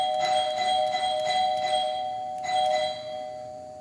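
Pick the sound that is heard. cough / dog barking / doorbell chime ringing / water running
doorbell chime ringing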